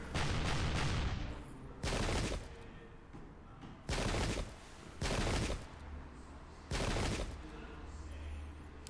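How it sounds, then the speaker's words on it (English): Musket volleys ring out in a Revolutionary War battle game, five loud crackling bursts of massed gunfire a second or so long, spaced by quieter pauses with a low rumble. "let's see what sort of return fire we get here"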